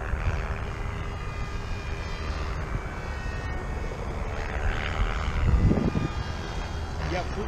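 An RC Twin Otter model airplane hovers slowly in windy conditions, its engine droning steadily up close, with a louder swell partway through over heavy wind noise.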